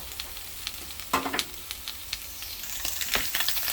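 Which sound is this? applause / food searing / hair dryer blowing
food searing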